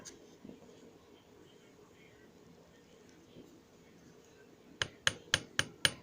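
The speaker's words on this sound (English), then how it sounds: "then I'll start to hammer just to give it a shape" A small hammer taps a wire leaf pendant into shape, striking five sharp, evenly spaced metallic blows close by near the end after a quiet stretch of faint handling noise.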